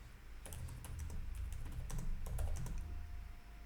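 Fingers type pseudocode on a computer keyboard at a close, steady pace, the key clicks quiet and uneven over a low background hum.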